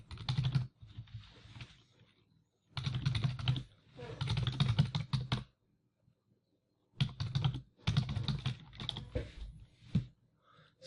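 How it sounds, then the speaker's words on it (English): Bursts of fast typing on a computer keyboard during an online poker session, clattering in three long runs separated by short pauses, close and fairly loud. "I might just type here."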